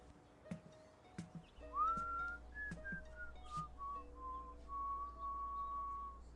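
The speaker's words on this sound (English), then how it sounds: "You were whistling." Quiet footsteps and knocks give way to a person whistling a slow, wavering tune, the clear high notes gliding and held, fairly close in a quiet room.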